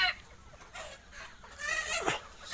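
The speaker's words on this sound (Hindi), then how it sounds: "सोनाली मुर्गा" Sonali breed chickens on a farm give a few short, close clucking calls over faint farmyard background.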